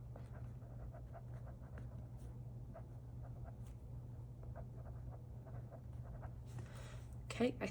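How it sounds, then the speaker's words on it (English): Sharpie marker writing on a Hobonichi Cousin journal page, a soft patter of short strokes running steadily throughout at close range over a constant low hum, with a brief louder rustle near the end. "I'm just gonna take my Sharpie and write on that"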